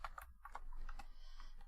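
Fast, uneven clatter of keys on a computer keyboard, close and fairly quiet, with irregular bursts of taps and no voices.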